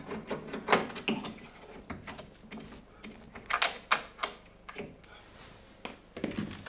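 Screws being turned out by hand on the back panel of a tumble dryer during a belt tensioner replacement: scattered close metallic clicks, scrapes and knocks at an uneven pace, with brief talk mixed in.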